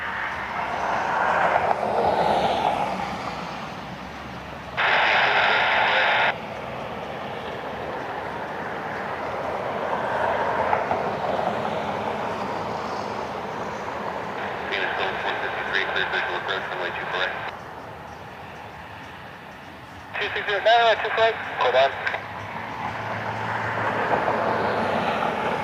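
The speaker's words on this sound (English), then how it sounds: "A220 taxiing out for departure." An Airbus A220 jet taxis out for departure at Cleveland Hopkins airport, its engines giving a steady distant roar throughout. Bursts of radio chatter and talking come and go over it.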